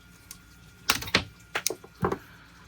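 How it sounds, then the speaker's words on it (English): Cutters snipping resin sprues off a handmade wakebait lure, a few sharp clicks and snaps close up in a quiet room, irregular and without talk. "we're gonna take some cutters here and just cut the sprues off"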